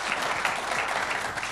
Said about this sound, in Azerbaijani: Mən xahiş edirəm Bayramı alqışla,